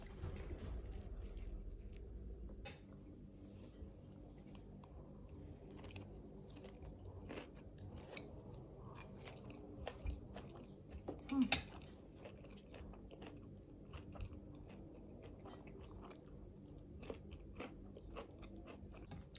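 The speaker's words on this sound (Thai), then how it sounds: "แล้วก็กินแตงกวาตัด" Crunchy cut cucumber is bitten and chewed with shrimp-paste fried rice, making soft, repeated crunches close to the mic over a quiet background, with one brief louder bite in the middle.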